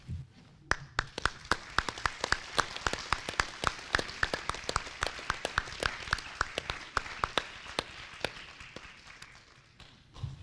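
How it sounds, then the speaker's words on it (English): A small audience claps for volunteers at a public education forum for congressional candidates, the individual claps sparse and distinct, steady for about ten seconds before thinning out. "Will all of you volunteering here tonight please stand and accept a round of applause."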